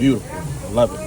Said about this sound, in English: One of the most beautiful sounds you can hear when you cook is that sizzle when you put something on the grill.